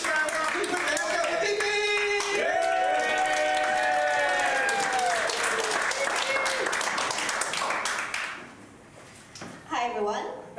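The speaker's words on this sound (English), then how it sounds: "Please put your hands together." Audience at a stand-up comedy showcase bursts into sustained clapping and applause with some cheering, loud and steady, while a voice speaks over it before the clapping fades near the end.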